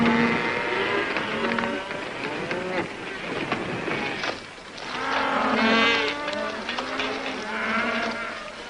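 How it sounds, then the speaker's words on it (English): Cattle on a trail drive moo repeatedly, several loud, drawn-out lowing calls overlapping one another against a steady outdoor background, with no talking. "if we didn't have those 36 steers with us"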